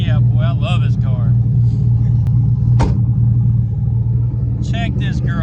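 A Ford Fairmont's freshly degreased engine runs loud and close with a steady low rumble throughout, while someone talks over it in bursts.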